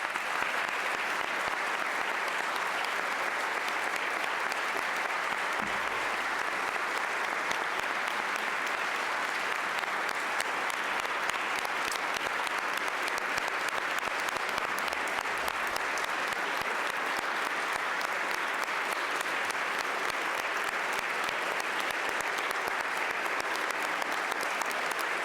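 Sustained audience applause in a large hall during a state governor's budget address in Pennsylvania, a dense, even wash of many hands clapping that holds steady for the whole stretch without pause.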